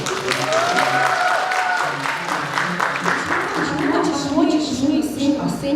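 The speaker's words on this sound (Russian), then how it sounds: "Еще раз аплодисменты." Audience applause at a university engineering faculty talent show, a steady, dense clapping that fills the room continuously and stays loud throughout without any speech over it.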